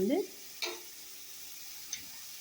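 Bread fries quietly in a pan for a roti roast, giving a faint, even hiss of oil with a sharp tap near the start and a small click later.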